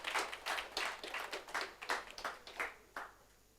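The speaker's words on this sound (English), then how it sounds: "So a big round of applause to all of them." Scattered clapping from a small office gathering honouring staff recruiters who onboarded new joiners, a handful of hands producing uneven, fairly quiet claps that taper off toward the end.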